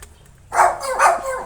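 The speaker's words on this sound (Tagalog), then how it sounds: "Oh, may isa pang aso pala dito." A dog barks twice at a house, two close, fairly loud bursts after a quiet start.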